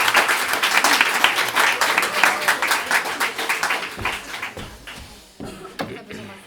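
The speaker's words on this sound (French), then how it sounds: "On peut l'applaudir, on l'encourage." An audience at a round-table evening claps loudly in dense applause that thins into scattered, individual claps toward the end.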